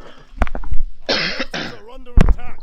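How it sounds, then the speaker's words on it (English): A man coughs several times in quick bursts, with a throat-clearing rasp between them, close and loud, and brief voiced sounds mixed in. "sorry, I have a bit of a cough."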